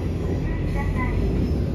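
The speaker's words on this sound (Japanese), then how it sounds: "レンガ造りの古いトンネルを通るぜ。" A train runs through an old brick tunnel on the Hitahikosan Line in Kyushu, giving a steady, close, enclosed rumble with a constant high whine that holds at one level for the whole stretch.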